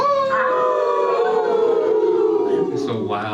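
A crowd of people throw their heads back and howl like dogs, voices imitating a wild wolf-pack howl in a rising and falling chorus that fills the room loudly and continuously, at a community coffee house show in a library.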